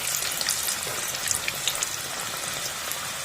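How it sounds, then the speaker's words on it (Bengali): Samosas deep frying in hot oil, a steady dense crackling sizzle that runs throughout without pause, fairly close and moderately loud, with no talking. "খুব সুন্দর লাল লাল করে ভাজা হচ্ছে"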